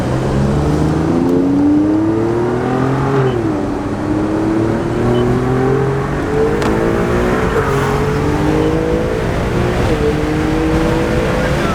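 Alfa Romeo Giulia Quadrifoglio engine revving hard under acceleration with the air conditioning on, a loud continuous snarl that climbs in pitch through several gear changes, heard from inside the car with no talk.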